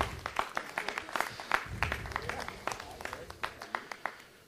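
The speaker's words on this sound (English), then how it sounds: "Give them a round of applause." Applause in a city council meeting chamber, a thin scattering of claps from a modest audience, fairly faint and steady for several seconds.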